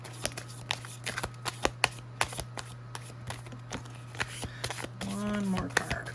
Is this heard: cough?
no